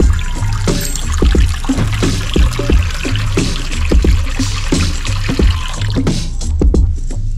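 Strong water flow from RV faucets with the flow restrictors removed, a loud, steady rushing and splashing that runs continuously throughout with no voices.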